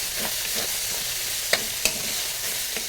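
Pancit bihon noodles stirred while frying in a pan, a steady sizzle with soft scraping strokes and a couple of sharper clinks of the utensil against the pan.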